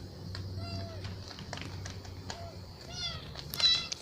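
A kitten meows a few times indoors, thin rising-falling cries scattered across a few seconds, close and fairly soft, with a person talking nearby at the start.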